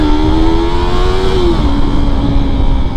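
A Yamaha R sportbike pulls away hard from a takeoff, its engine droning loudly and up close with a rising whine that drops briefly at a gear change before pulling on again, with no voices over it.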